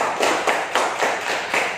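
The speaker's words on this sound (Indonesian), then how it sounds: "kita kasih tepuk tangan buat Suci" Classmates clap for a student during a classroom teaching session, a short run of brisk, fairly loud hand claps with irregular beats and no voices.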